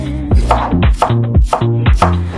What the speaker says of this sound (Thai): ฝานให้บางๆ และหั่นให้เป็นเส้นเล็ก ๆ ค่ะ